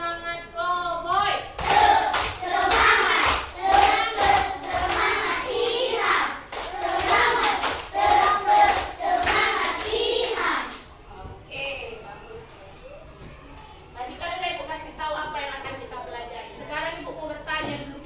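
A primary school class joins in a rhythmic cheer clap led by the teacher, with bursts of patterned clapping and children chanting along, followed by quieter talking.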